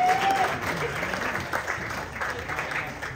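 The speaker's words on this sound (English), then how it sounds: "Yes, please give them a round of applause." Audience applause at an author panel event, a dense steady wash of many hands clapping that fills the room throughout, with faint voices underneath.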